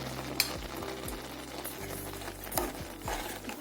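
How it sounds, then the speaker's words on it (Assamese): Carrot halwa with sugar cooking in a pan, giving a steady close sizzle and soft bubbling with a few louder pops and stirring scrapes, no talk. "এইখিনি ধুনীয়াকৈ উতল আহিছে"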